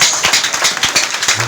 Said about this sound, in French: Applaudis, mon Dieu, ça